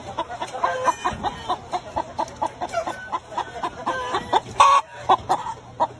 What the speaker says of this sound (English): Hens in the nest.